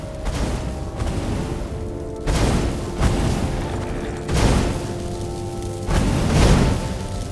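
Cannon traps in the video game Stories: The Path of Destinies fire a series of heavy booming shots, roughly five deep blasts spaced a second or two apart over a continuous mechanical rumble.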